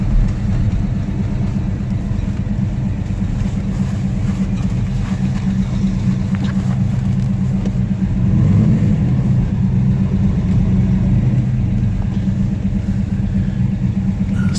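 A 1972 Chevelle SS four-speed rumbles along at low, steady revs while driving, a deep continuous drone heard from inside the car with road noise and a slight swell partway through.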